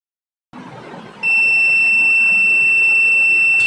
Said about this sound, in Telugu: మల్టీమీటర్లో నుంచి బజర్ సౌండ్ అయితే వస్తుంది